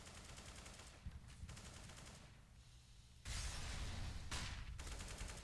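Automatic M4 rifle fire in Counter-Strike on the Mirage map, rapid bursts under constant game ambience, swelling louder and denser from midway with heavy sustained spraying.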